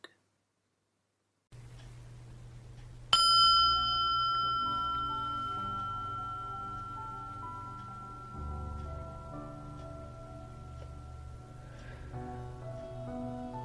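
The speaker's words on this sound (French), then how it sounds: "chaque méditation débute par un gong" A single meditation gong struck once, ringing out with a bright metallic attack and a long, slowly fading shimmer of sustained tones over a quiet room, with no talking.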